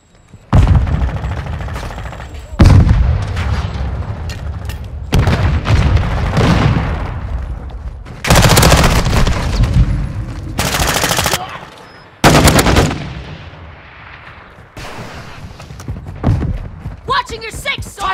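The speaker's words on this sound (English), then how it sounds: "Throwing flash grenade!" Flash grenade detonation and gunfire in Call of Duty Modern Warfare 2, with loud bursts of automatic fire and sharp bangs. Shouted game voices and a music bed run beneath the combat.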